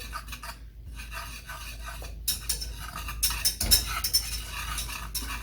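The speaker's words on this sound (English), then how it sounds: "You want to give that a quick little whisk, just to kind of get that mixed up a little bit." A whisk scrapes and clatters against a pan while dry sugar and cornstarch are mixed for a custard cake, starting as a soft rasping and building into quicker, louder metallic strokes with sharp clinks near the end.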